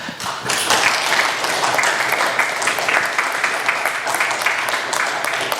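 Audience applause after a talk at a Linux conference, a dense, steady wash of many hands clapping that holds at full strength for several seconds, loud and close, with no speech over it.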